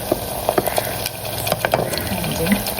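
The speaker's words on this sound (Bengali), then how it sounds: "আজকে দুপুরে চিংড়ি মাছের বড়া করছি।" Shrimp fritters fry in a pan with a soft, steady sizzle, with occasional clinks and stirring taps on top; no one speaks over the sound.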